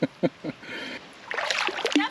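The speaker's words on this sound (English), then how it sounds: "I thought I was hearing too much splashing." A person wading into a deep river raises water splashes: a few sharp sloshes at first, then a denser, louder burst of churning splashes close by.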